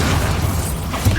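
Blasting spell from Hogwarts Legacy going off as a dense, rumbling boom with crackling bursts over a steady low-end roar, ending in a short punchier pop near the close; no talking.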